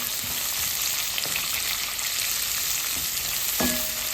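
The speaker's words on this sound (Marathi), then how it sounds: "गॅस फास्ट करून आपण कांदा चांगला परतून घेऊया." Onion sautés in a pan over high flame with a loud, continuous sizzle and occasional stirring clicks and scrapes.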